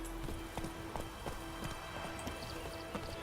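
Roach, Geralt's horse in The Witcher 3: Wild Hunt, trots up with a quick, regular clip-clop of hooves, several distinct footfalls close by against a soft ambient game background.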